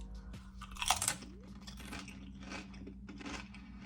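Close, crisp crunching of chips scooped into fried pickle dip, with a sharp bite followed by steady chewing, no talking.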